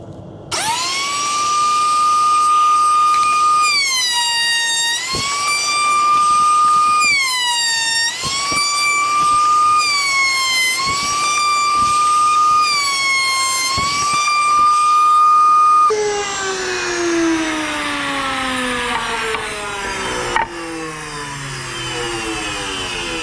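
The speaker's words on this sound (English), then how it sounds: "We are going to run this through the router end grain first." Router cutting rabbets into the end grain of a wooden drawer box, a loud, steady high-pitched whine that dips and recovers as each pass bites the wood, then winds down at the end.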